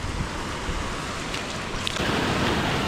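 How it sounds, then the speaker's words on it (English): Steady broadband rush of a waterfall at Pahamsyiem in Meghalaya, close and constant, growing slightly louder near the end with no voices. "I just gonna make my path so I can nicely enjoy the waterfall here in Pahamsyiem"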